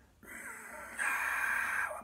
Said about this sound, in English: make a sighing, whistling, silky sound called ujjayi breath in Sanskrit